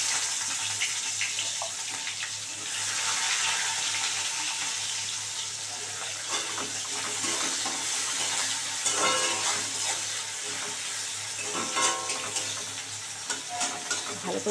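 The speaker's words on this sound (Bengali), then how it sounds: "ভালো করে একটু পেঁয়াজটা ভাজা ভাজা হয়ে যাক।" Onions fry in oil with nigella seeds, a continuous close sizzle with intermittent stirring scrapes and crackles that swell toward the end.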